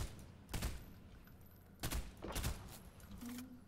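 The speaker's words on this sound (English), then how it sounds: "Oh, he's trying to shoot me." Fortnite gunfire: several sharp shots spaced out at moderate distance, a single crack followed later by a quick pair, fairly faint overall with no talk.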